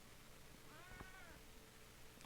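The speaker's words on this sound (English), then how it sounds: "And my cat is here to help." A house cat meows once, a short rising-and-falling cry heard in a room with a steady low background hum; nobody speaks.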